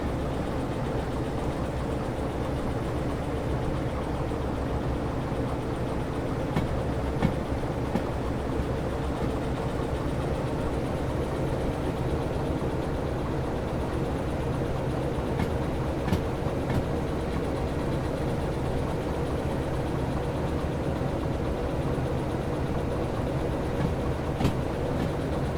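A freight train in the Derail Valley rail simulator rolls steadily along the track, giving a continuous low rumble with occasional faint clicks and clacks from the wheels and no voices over it.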